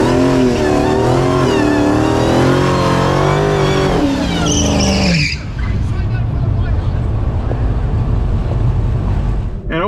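Tesla Model S Plaid launching down a drag strip in drag mode, a loud rising electric whine building over several seconds and then cutting to a roaring rush of tire and track noise, with voices underneath.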